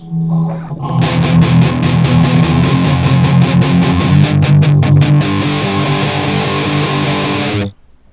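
Distorted electric guitar plays rapid palm-muted chord strokes, the mute slowly released so they open up into a sustained ringing chord before cutting off, loud and close.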